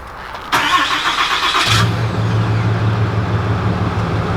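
A 2019 Ram 2500 Limited pickup starts by remote: a brief cranking burst, then the engine catches and settles into a steady, loud, low idle close by.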